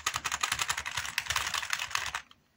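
Rapid, steady clatter of keys on a white computer keyboard, close and continuous for about two seconds, then stopping abruptly into near silence.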